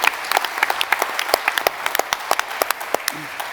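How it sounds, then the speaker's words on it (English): Audience at a conference pitch event applauding, a brief burst of scattered, distinct hand claps of moderate loudness. "give her a round of applause"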